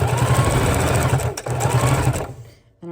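A sewing machine stitches down the center of a miniature junk journal, whirring in rapid, loud bursts with a short break, then winding down to silence before a faint restart.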